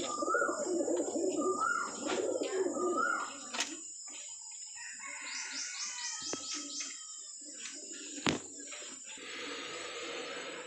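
Pigeons and pigeon chicks in a fancy-pigeon breeding setup coo softly alongside scattered bird chirps, with a few sharp clicks and a brief flutter partway through.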